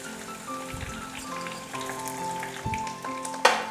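Garlic with a few curry leaves sizzling in oil in a pan while cooking a spicy yam (karunai kilangu) masala, a steady crackling fry with scattered pops and a brief louder burst near the end.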